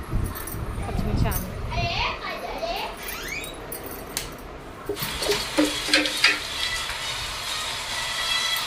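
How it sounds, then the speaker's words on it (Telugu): Green chillies fry in a pan with a soft sizzle, joined by clattering stirring bursts in the second half, while voices and children's chatter carry on in the background. "పచ్చిమిర్చి వేగాలి."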